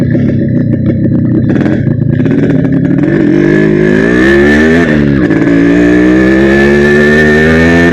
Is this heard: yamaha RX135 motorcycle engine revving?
yes